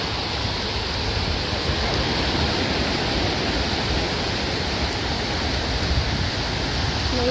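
Steady, loud wash of surf from ocean waves breaking on a beach, a broad continuous roar with no distinct individual breaks and no voices.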